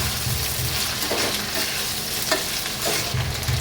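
Onion and tomato being fried with lightly fried potatoes in a pan, a steady close sizzle with stirring scrapes throughout and no talking.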